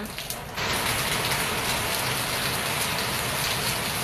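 Steady rain pours in front of a house, a dense broadband hiss that swells to full strength after the first half-second and then holds evenly throughout, close and continuous with no voices.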